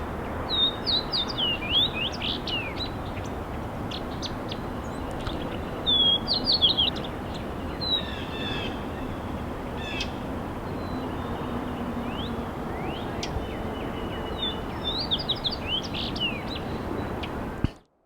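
A wild bird sings in repeated high, quick chirping phrases over steady broadband background noise, with further calls scattered across the stretch, moderately distant and never very loud.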